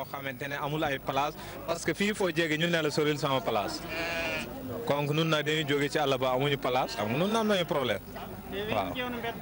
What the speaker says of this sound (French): À Seras, les moutons sont parqués à l'entrée principale faute d'espace